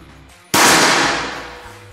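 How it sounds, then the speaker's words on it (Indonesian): One sharp, loud air rifle shot cracks out after a brief quiet moment, its ringing tail fading over the next second. "Tembakan yang kelima."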